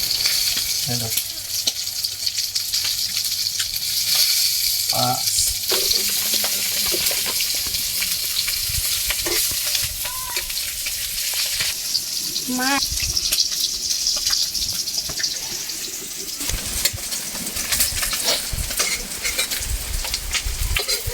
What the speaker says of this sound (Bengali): মাছ ভাজা হয়ে গেছে, এবারে মাছগুলো নামিয়ে নেব।